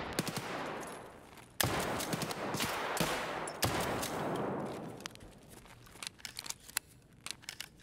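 Rapid bursts of automatic gunfire and sharp single shots from a shooter video game, loud and dense, with repeated volleys that thin out into scattered cracks toward the end.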